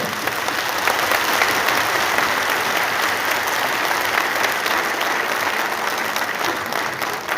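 A large crowd at a rally claps loudly on request, producing a thick, continuous wash of applause that holds at an even, full level from start to finish with no speech over it.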